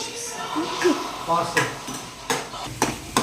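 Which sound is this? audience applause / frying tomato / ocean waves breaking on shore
frying tomato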